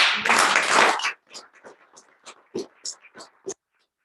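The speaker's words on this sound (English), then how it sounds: "I'd like to get a round of applause for everyone here" Graduation audience applause bursts loudly for about a second, then trails off into scattered individual claps that fade to silence.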